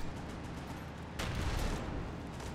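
Gunfire in the World War Polygon war shooter game, a dense continuous battle din with a heavier burst of shots about halfway through, fairly faint and with no talking.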